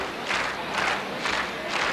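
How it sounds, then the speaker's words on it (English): A rowdy baseball crowd roars in repeated swelling waves of shouting and cheering, loud and close, rising and falling about every half second. "this crowd is already out of control"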